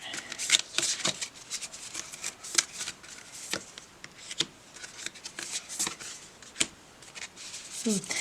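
A deck of tarot cards being shuffled and drawn, with quick riffling bursts and sharp flicks in an irregular rhythm, close and fairly loud, alongside occasional background murmurs.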